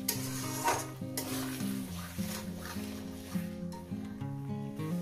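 Masala for mutton curry is stirred and sautéed in a pan: a spatula scrapes and taps the metal over a soft sizzle, while steady tonal background music plays underneath.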